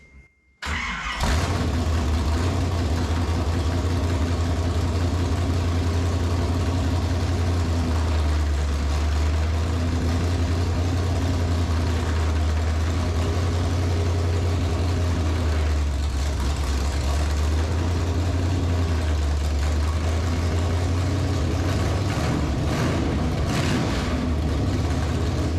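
A 1974 Camaro Z28 V8 cranks and fires, then runs loud and steady at a rumbling idle close by with slight rises and falls for over twenty seconds, no talking.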